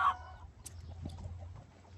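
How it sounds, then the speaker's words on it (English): Chickens on a small farm pen giving a few short clucks and calls close by, with a sharper squawk at the start over a steady low hum of background noise. "that's the chickens"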